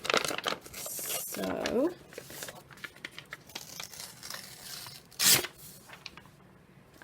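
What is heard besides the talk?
tearing the edges of a magazine page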